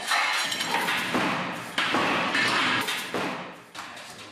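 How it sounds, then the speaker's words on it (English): A crash test sled slams to a stop while testing a pregnancy seatbelt with a lap strap, producing a loud broadband bang followed by several sharp metallic knocks and thuds that fade out. "We're pretty sure that everything's going to work fine, but we've just got to crash it and see."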